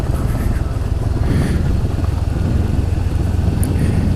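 A 2019 Honda CB500X motorcycle on the road, with a steady, loud engine drone and wind rush running continuously from start to finish, no voices over it.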